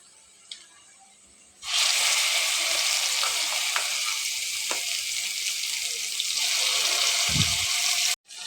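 Spice paste for palakura ullikaram frying in hot oil: a loud, steady sizzle bursts in suddenly and roars on continuously at close range, with a few small clinks, before cutting off abruptly near the end.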